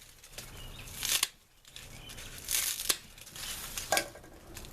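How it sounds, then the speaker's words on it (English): Garlic bulbs are broken apart by hand into individual cloves, making papery crinkling and tearing bursts, three or four close crackly snaps separated by quieter rustling. "and then just break them up into individual cloves"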